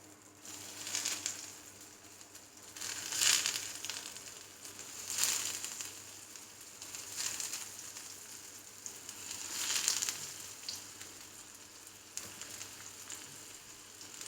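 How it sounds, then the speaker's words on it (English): Steady sizzling of raw banana cutlets frying in hot oil in a frying pan, with periodic louder crackling surges every couple of seconds, close by and without talk. "let's start putting the cutlets in the frying pan."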